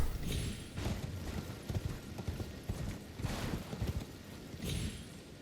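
Hooves of a magical spectral steed in Elden Ring, riding through the Liurnia region, a steady rhythmic clip-clop of galloping close and fairly loud, running on its own without talk.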